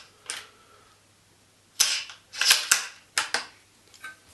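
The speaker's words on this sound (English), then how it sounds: "just put the rifle vertically like this and you press the trigger" Trigger pulls on a CZ 455 bolt-action rifle held upright: a few sharp metallic clicks and snaps from the bolt and firing pin, close and dry, in two clusters with silence between.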